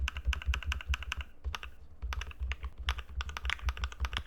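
Rapid typing on a computer keyboard set to an NK Cream switch sound, with close, crisp, clacky keystrokes arriving in quick bursts separated by brief pauses.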